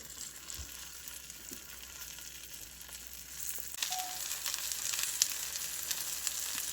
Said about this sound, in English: Now we're going to have to throw in the mushrooms and the onions